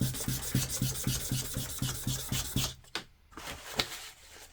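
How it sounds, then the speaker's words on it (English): A small Temu sanding machine grinds against a penguin figure in quick, regular rasping strokes, close and fairly loud, then tapers into quieter, scattered scraping. "I will sand them down."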